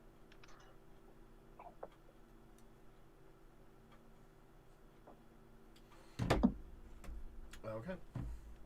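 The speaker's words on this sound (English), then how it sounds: "Does somebody got a clock in the background?" A clock ticks faintly and steadily in the background of a quiet room, its soft regular ticks nearly buried in low hum, with a louder burst of noise and voice arriving near the end.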